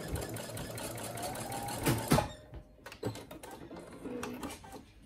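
Brother SE1900 sewing machine stitching a straight line through fabric, a steady close whirring hum that runs for about two seconds, pauses with a couple of clicks, then resumes more softly.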